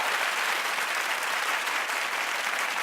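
Studio audience applause at a talk show, steady dense clapping filling the whole moment at even loudness with no talk over it.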